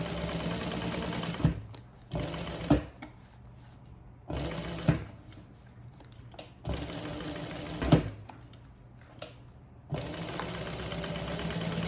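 A sewing machine stitches a handbag in repeated bursts of steady whirring, each a few seconds long. Sharp clicks mark the pauses where the needle stays down and the presser foot is lifted.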